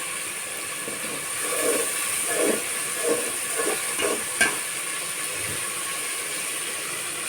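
A spice paste of ground garlic, onion, ginger and green chilli with dried chilli, salt and turmeric goes into a hot pan for a Bengali katla fish curry: steady sizzling hiss with soft bubbling pops, continuous and close.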